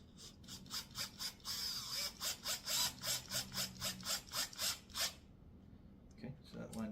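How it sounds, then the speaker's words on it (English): Rapid ratcheting clicks from a screwdriver driving a screw into a kids' natural wood table, a steady run of about twenty close, crisp strokes, then a brief pause and a couple of softer handling knocks. "we're just going to screw that down"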